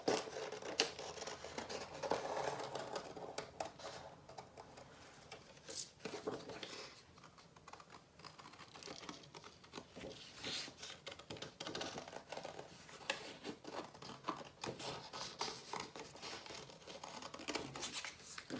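Scissors snipping through paper to cut out a monkey's tail, a steady run of close, crisp cuts and rustles continuing throughout with occasional soft background noise.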